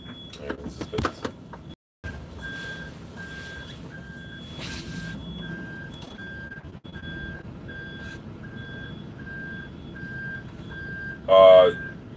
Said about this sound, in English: Just told my daughter to move the car.